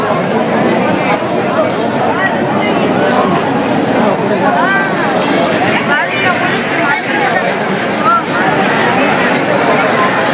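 Dense crowd chatter fills the Balumama temple at Adamapur on a busy Sunday, a loud, continuous babble of many voices close around with no pauses.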